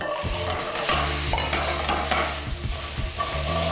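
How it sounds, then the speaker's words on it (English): Apples and butter saute in a hot frying pan, sizzling steadily close up while a spoon or spatula repeatedly scrapes and stirs through the fruit. "You want to saute these 3 things first: butter, apples, and raisins for 5 minutes on high heat"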